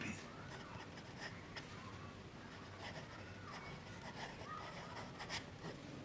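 A Sailor Shikiori fountain pen nib writes on paper up close, a soft, faint scratching of short strokes and pauses, with a voice heard quietly at times.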